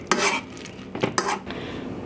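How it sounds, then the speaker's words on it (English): Peaches being mashed in a saucepan for gluten-free peach pie bars: a few close, sharp scraping and clanking bursts of a utensil against the metal pan, with quieter stirring in between. "Add your 1 cup of peaches to your saucepan and just mash these till they're mostly mashed."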